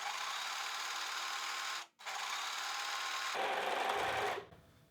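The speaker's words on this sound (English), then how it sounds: "But I'm gonna try out this lock machine." Overlock serger stitching the side seams of a fabric garment, a fast, even mechanical whirr that runs steadily, stops briefly, resumes, then changes tone before winding down, with no talk over it.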